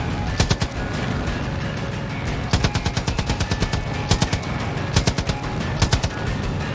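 Rapid automatic gunfire rattles in Far Cry 5 during a fight on an island, loud and close, in repeated short bursts with brief gaps between.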